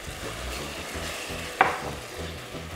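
Wine hitting a hot pan of leek and quick meat ragu for crab and 'nduja linguine, giving a steady close sizzle with one sharp clink of a utensil partway through, no speech.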